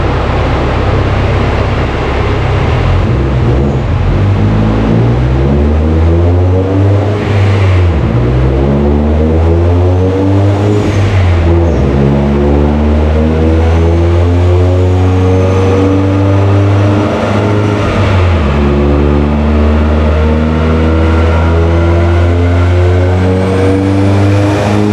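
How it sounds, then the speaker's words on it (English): A Subaru STI with a 6466 turbo roars through repeated hard revs on a dyno, the engine note climbing and dropping in long sweeping pulls, loud and continuous with no voices. "let the car warm up, get the dyno synced, and we're gonna start the day out with a pull"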